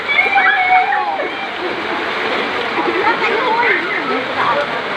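Someone wades through deep flood water, sending up a continuous, close slosh and splash that runs steadily throughout while people talk over it.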